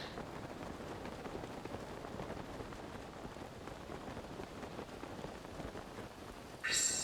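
Steady rainfall in the video game Zelda: Breath of the Wild, a soft, continuous hiss of rain on surfaces, faint and uniform throughout, with a brief brighter sound at the very end.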